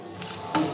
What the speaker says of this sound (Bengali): দেখো আমি এবার শুকনো লঙ্কাটা ফাটিয়ে দিলাম, তেজপাতাটা একটুখানি ফাটিয়ে দিলাম